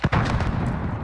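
A grenade detonates in Call of Duty Warzone: a sharp, heavy boom at the start, then a rumbling, crackling blast that holds loud for about a second.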